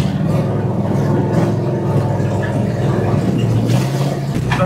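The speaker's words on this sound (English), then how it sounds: "Buggy's moving. We're gonna see if she can make it a little further without overheating." An off-road buggy engine runs steadily and close by at an outdoor mud-pit event, with a constant rumbling drone that shifts slightly in pitch near the end.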